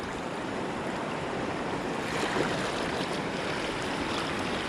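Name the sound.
kayak paddling on river whitewater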